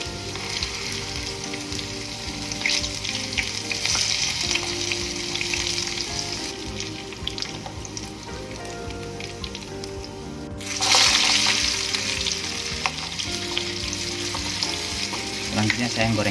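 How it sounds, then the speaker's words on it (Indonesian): Tempeh frying in hot oil, a dense continuous sizzle and crackle close up, with occasional stirring and a sudden louder burst of spattering partway through. "saya goreng tempe"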